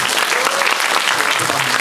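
A film festival audience at a screening talk gives loud, dense applause, many hands clapping at once in a steady roar that fills the hall with no voices over it.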